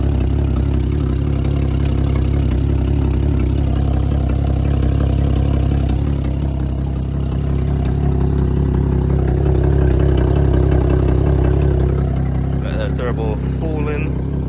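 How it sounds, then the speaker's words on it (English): Big-turbo BMW 535 engine with coil packs and NGK spark plugs, a loud, heavy low drone held steadily throughout as the turbo spools, with a rising whine near the end; talk can be heard beneath the engine noise. "Turbo spooling."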